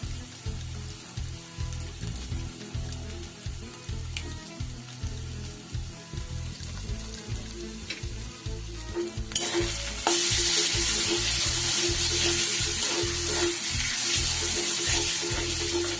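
Stone-ground spice paste frying in oil for a Bengali curd catla fish curry, a low crackling sizzle under stirring that swells into a loud, bright hiss about two-thirds through.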